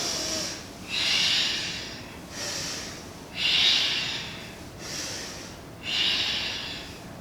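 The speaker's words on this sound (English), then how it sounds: "Maybe having a little bit deeper, more powerful breath today." Deep, forceful breaths during a kundalini yoga exercise, alternating long hissing inhales and exhales in a slow steady rhythm, about six strong breath sounds, close and clear with no talking.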